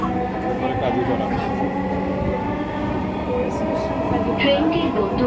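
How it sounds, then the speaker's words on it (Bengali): A metro train bound for Uttara North runs on its rails with a loud, steady rumbling roar inside the carriage. Faint voices are heard beneath it. "This train is bound for Uttora North."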